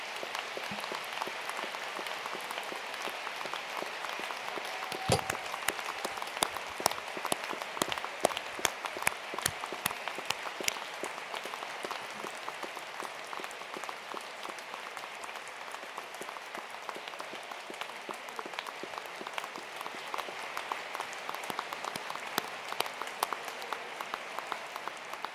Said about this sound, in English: And applaud your supporters again.